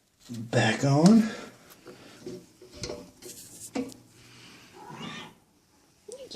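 A cat meows loudly nearby, with a few softer meows later, mixed with a person talking and faint clattering.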